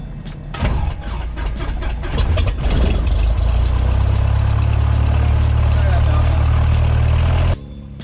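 A small training airplane's piston engine cranks with a few sputtering clicks, catches and settles into a loud, steady idle close by, cutting off abruptly near the end; a voice speaks briefly at the start.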